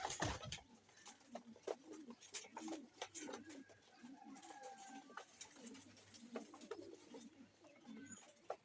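Soft repeated cooing from a Sialkoti male pigeon, a series of low throaty coos close by with rustling and faint background talk around them.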